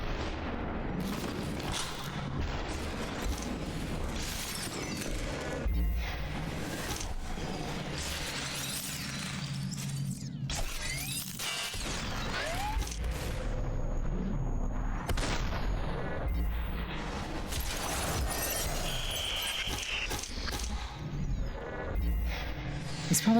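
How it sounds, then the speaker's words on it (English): Shotgun blasts in SUPERHOT, a slow-motion shooter, boom repeatedly with shattering crashes between them, set against a dense, busy game soundscape. "I will simply have to use a shotgun instead."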